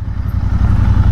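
A Royal Enfield Interceptor 650 motorcycle rolling through a tight, slow turn on a road, its parallel-twin engine giving a steady, close, low throbbing idle-speed burble with a slight lift in revs, no talking.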